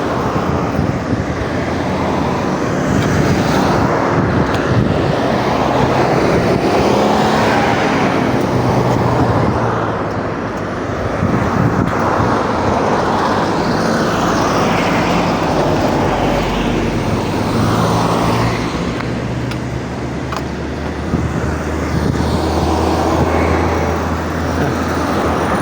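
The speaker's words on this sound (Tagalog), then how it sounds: "Marami pa rin sasakyan." Road traffic heard from a bicycle: a steady wash of passing cars and engines, loud and continuous throughout with no talking.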